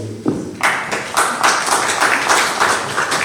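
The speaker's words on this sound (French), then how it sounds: "Moi, je propose qu'on applaudisse Jean-Michel" Audience at a French citizens' forum applauding Jean-Michel, with a short burst of clapping that starts after a brief spoken word and carries on steadily, moderately loud.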